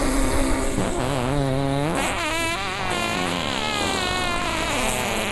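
Fart noises played back in sequence from a fart soundboard phone app, loud buzzy blasts with wobbling pitch, one after another with brief gaps.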